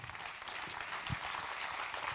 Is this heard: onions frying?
no